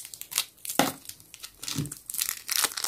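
Thin plastic of a blind bag is ripped open and crinkled up close in several quick bursts, with rustling between the tears.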